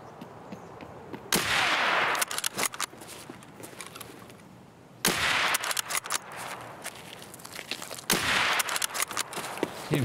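Gunfire in Escape from Tarkov comes in three loud bursts of rapid shots, each a few seconds long, with quieter stretches of scattered pops and movement between them.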